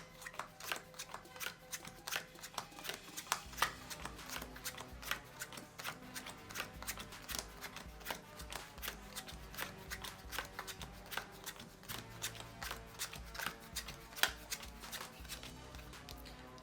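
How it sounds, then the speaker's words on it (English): Playing cards are dealt one at a time into two piles during a card trick, making a quiet, steady string of soft snaps and slides that carries through the whole stretch. "have the spectator split the deck into two piles by dealing one card at a time"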